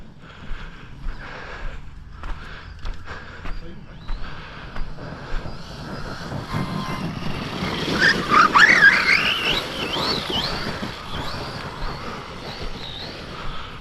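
An Outcast 4S RC stunt truck doing a speed run on grass: quiet rhythmic thumps at first, then a rising electric motor whine that peaks loud and close before fading as the truck pulls away.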